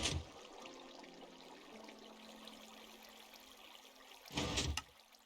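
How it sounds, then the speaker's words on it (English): Minecraft water, switched on by a redstone mechanism, flowing as a faint steady trickle in a game world. A louder rushing splash follows near the end. "I hear water flowing"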